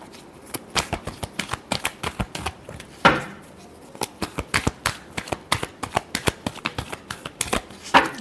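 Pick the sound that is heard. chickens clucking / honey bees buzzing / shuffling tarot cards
shuffling tarot cards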